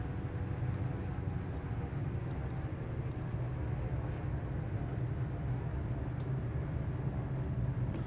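Aircraft taxiing toward runway 09 at Sumburgh in a flight simulator: a steady low engine drone and rumble holds throughout with a few faint clicks, no voices.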